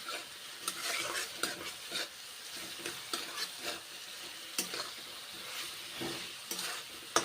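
Pointed gourd frying with spices, a spoon stirring and scraping in rhythmic bursts over a soft sizzle, close and alone without voices.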